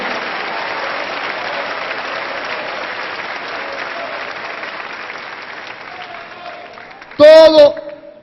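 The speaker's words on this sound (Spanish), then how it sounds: "Dele palmas al Rey." A church congregation applauds in praise during a Spanish-language sermon, dense clapping filling most of the stretch before fading, then a loud voice breaks in briefly near the end.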